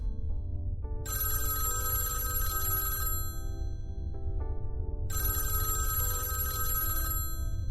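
A telephone bell rings in two long bursts of about two seconds each with a pause between them, a bright, buzzy metallic trill that is loud and close, with no one speaking.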